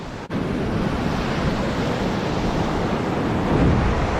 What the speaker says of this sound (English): Gotta watch these bloody waves though